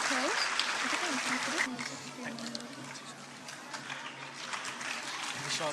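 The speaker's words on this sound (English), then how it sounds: "A huge round of applause." A live audience claps steadily at a 2015 state-level competition, a dense broadband patter filling the hall throughout while a voice talks over it.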